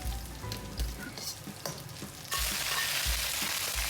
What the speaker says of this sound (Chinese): 好，大火翻炒，